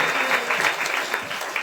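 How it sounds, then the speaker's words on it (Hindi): Audience at a Kartik festival katha in a Hindu temple applauds to welcome guests, a dense, steady burst of clapping from a crowd with faint voices underneath. "ताली बजाकर आपका बहुत बहुत स्वागत"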